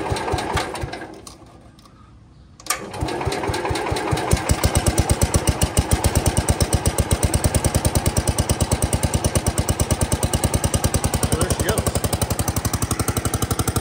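A Wheel Horse 701 garden tractor engine cranks, catches and settles into a loud, fast, even chugging idle up close.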